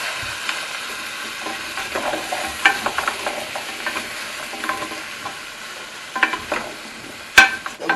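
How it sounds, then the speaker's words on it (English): Swedish meatballs and onions sizzling in a pan as they are stirred, with soft scraping and intermittent clacks of the utensil against the pan over a steady low frying hiss, close up and without talk. "So mix the onions all through them."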